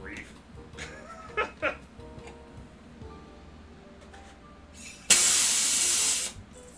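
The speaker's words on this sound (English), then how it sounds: "all the air pressure is just gonna make it spooge out the top" A homemade soda carbonation device sprays carbonated water out the top under air pressure, a loud, steady hissing burst lasting just over a second after quieter clatter and faint background talk.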